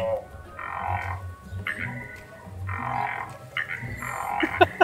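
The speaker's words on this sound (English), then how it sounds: "These frogs start to sing." Animatronic frogs croak in loud, deep, repeated bursts on a Universal Studios theme park ride, rhythmic calls recurring every second or so with ride ambience and a few sharp clicks near the end.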